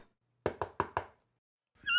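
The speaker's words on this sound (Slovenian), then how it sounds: "ko so potrkali" Four sharp knocks on a wooden door in quick, even succession, close and clear in a quiet room, followed by a brief pause and then an unrelated tonal sound at the end.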